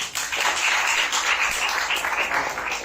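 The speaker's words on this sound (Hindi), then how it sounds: "तो एक दफा अपने लिए तालियां बजा लीजिए।" Steady audience applause at a poetry and storytelling performance, a dense wash of many hands clapping at once, sustained and fairly loud for a few seconds.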